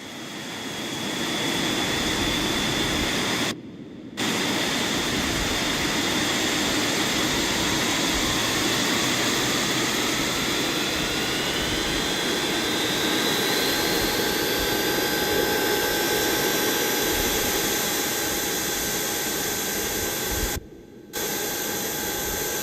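Aircraft engines spooling up at an airport gate in the Airport Sim video game, a loud steady jet whine and broadband roar with rising tones, briefly cut out twice.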